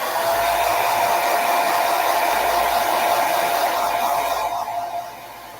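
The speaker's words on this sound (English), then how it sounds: "Let me blow dry this dry so you can see." A hair dryer blows steadily and loudly with a constant airy roar, tapering slightly at the end as it is switched down or moved away.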